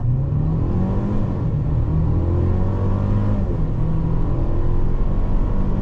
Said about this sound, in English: since it's downhill, we're probably gonna accelerate a little bit quicker